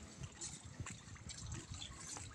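Water splashes and trickles steadily from a resort fountain, a soft continuous burble with faint gushing heard from a short distance and no voices.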